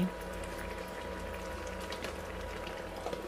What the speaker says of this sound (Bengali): যখন দেখবে এরকমভাবে গ্রেভিটা ফুটতে শুরু করেছে